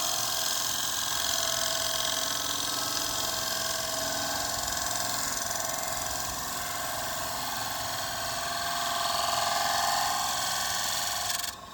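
A wood lathe spins as a bowl scraper takes fine, light shavings across a turned bowl, producing a steady continuous whirring hum with a bright scraping hiss, and no talk.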